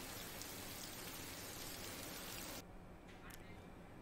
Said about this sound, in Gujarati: અમરેલી જિલ્લાના વડિયામાં ધોધમાર વરસાદ વરસ્યો